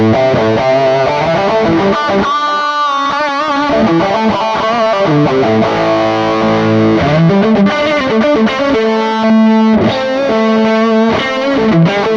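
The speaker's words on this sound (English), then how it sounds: "I've got like a built-in fuzz, a much longer delay with more feedback on there, and a very subtle chorus" A fuzzy, distorted electric guitar through a Mooer GTRS P800 plays a sustained melodic line, notes repeating in long high-feedback delay echoes with a gentle shimmering chorus, loud throughout.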